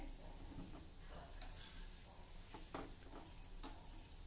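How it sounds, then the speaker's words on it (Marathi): Sweet shankarpali dough pieces fry in hot oil in a pan over a medium-low flame, giving a steady, faint sizzle with a few light clicks as the pieces are stirred and turned. "हे व्यवस्थित एकसारखे होईपर्यंत तळायचे आहे"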